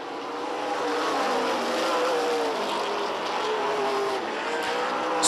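Race cars lapping an oval track in late-race traffic, the blended engine roar of several cars holding steady and fairly distant, with a slight swell as they come off a turn; no voices.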